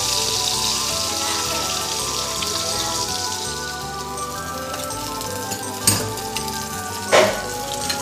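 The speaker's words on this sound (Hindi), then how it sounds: "देखो त आमर माछ फ्राई हे जाइछे" Pieces of rohu fish fry in a pan with a dense, steady hiss and pops, close and loud, and two sharper clatters of a utensil toward the end.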